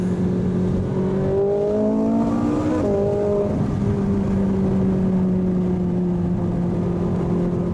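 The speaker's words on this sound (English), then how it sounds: "I was completely hijacked by the Ferrari's V8 and interrupted" A Ferrari 458 Italia's V8 engine revs loud and close, climbing through rising pitch sweeps, then easing into a long, steady lower drone, with no talking over it.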